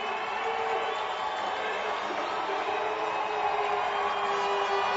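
A football championship game crowd in an Amarillo stadium rising to its feet, a steady, dense roar of many voices that holds evenly throughout.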